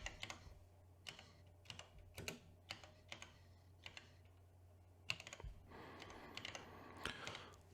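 Close, quiet typing on a computer keyboard, a string of irregular key clicks with a brief denser burst of keystrokes near the end.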